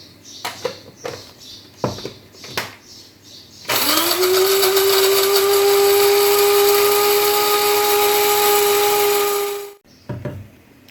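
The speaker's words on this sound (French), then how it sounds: "Et là, on va faire mouler le piment rouge qui a été séché." A blender grinds dried red chili into powder, a loud whirring motor roar that starts abruptly after a few clattering knocks, holds steady for several seconds, then cuts off, followed by light handling clatter.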